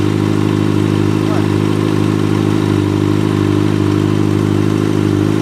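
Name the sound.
Kawasaki Ninja motorcycle engine running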